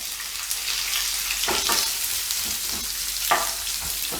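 A medium chopped onion fries with golden roasted chana dal in a pan, giving a steady close sizzle broken by a few soft scraping stirs; no one speaks.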